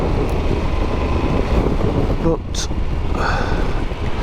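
Wind gusts buffeting a motorcyclist on the Furka Pass mountain road, a loud rumbling roar blasting across a helmet microphone with a steady low drone throughout, and a brief spoken word near the middle.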